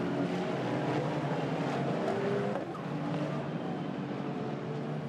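GT4 race cars at Paul Ricard snarl through a chicane, engines loud and close in a sustained rasp that briefly dips and rises as they brake, hop the curb and accelerate away.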